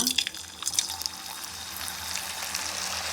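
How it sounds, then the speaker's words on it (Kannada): Potatoes for French fries go into hot oil, giving a steady hissing sizzle with crackly spatter that starts close and continues evenly throughout. "ಇವಾಗ ಎಣ್ಣೆ ಕಾದಿದೆ ಸೊ ಆಲೂಗೆಡ್ಡೆ ಹಾಕೊಂಡು ಫ್ರೈ ಮಾಡ್ಕೊಳ್ಳೋಣ"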